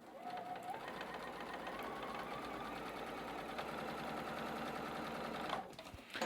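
A sewing machine runs steadily while chain piecing quilt blocks, a continuous close mechanical hum with rapid needle rhythm that cuts off near the end.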